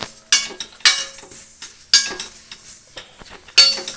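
Tamarind leaves crackle and sizzle in a hot pan of tempering, with several sharp bursts as they are stirred and a metal spoon clinks against the vessel.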